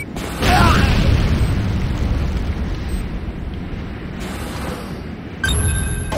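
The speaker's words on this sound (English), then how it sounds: "C4 is set. Fire in the hole!" C4 explosive detonating in the game Renegade, a loud, close blast that swells into a long rumbling roar, then cuts off before a second burst of noise near the end.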